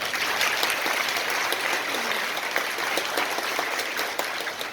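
Audience applause for the staff at a school's annual function, a sustained, even wash of many hands clapping that continues throughout at steady volume.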